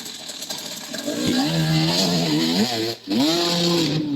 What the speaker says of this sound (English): Oh yeah, I love that rev limiter.